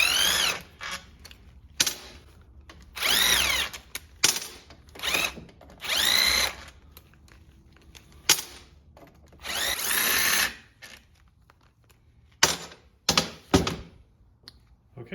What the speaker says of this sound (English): I'm going to switch to my mini impact so I can get these bolts out faster